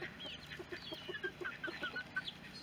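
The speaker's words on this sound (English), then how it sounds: "This mama hen and a turkey hen are actually co-parenting a couple of chicks that they hatched together." A mother hen and a turkey hen with their chicks on a homestead: soft, repeated clucking mixed with a run of high chick peeps, fairly quiet and close, with no talking.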